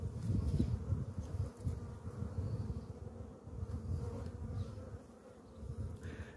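Honeybees buzzing inside a crowded hive, a close, low, fluttering drone that swells and eases without pause throughout.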